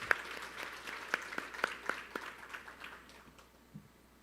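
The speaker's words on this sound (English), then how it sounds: "Let's give them, again, a warm round of applause." An audience at a Korea-Latin America trade and innovation forum gives scattered, fairly distant applause: a few distinct claps that thin out and fade to near quiet within a few seconds.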